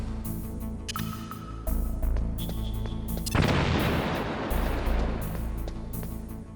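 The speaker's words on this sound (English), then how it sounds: "That detonates." Detonated charge in Metal Gear Solid Delta erupting into a loud explosion midway, a sharp boom followed by a long roaring, rumbling wash of debris and noise over game ambience.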